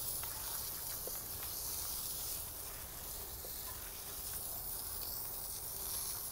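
A hand foamer sprays wheel cleaner foam into a car's wheel barrel, producing a steady, faint pressurized hiss that continues throughout with no talking.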